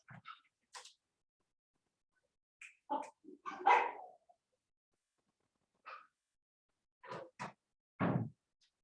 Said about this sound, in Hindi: मेरा छोटा वाला डॉगी बाहर निकल गया और रोड वाला कुत्ता लोग से झगड़ा कर रहा है